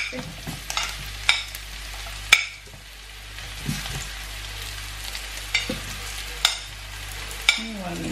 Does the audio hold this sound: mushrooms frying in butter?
yes